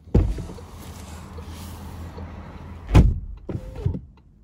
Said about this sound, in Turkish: Kapı kapanma sesi güzel.